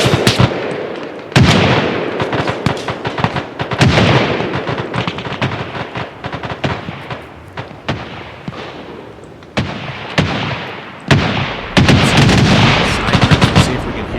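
Heavy gunfire and rocket blasts from a firefight in the video game Stalker Reforged, with dense rattling shots and repeated loud booming bursts of RPG fire throughout, several sharp explosive onsets standing out.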